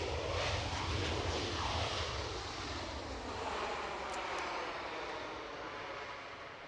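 Airliner inbound from Vienna arriving at Edinburgh Airport, a broad jet-engine roar heard from a distance, loudest at first and then slowly fading and shifting in pitch as it passes.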